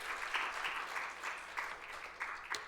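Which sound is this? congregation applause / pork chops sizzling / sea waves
congregation applause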